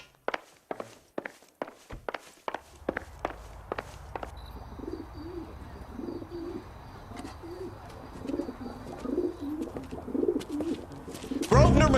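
A carrier pigeon coos in a repeated soft throaty burble in the video game L.A. Noire, following a run of crisp footsteps and sitting under a faint room tone, with no talking.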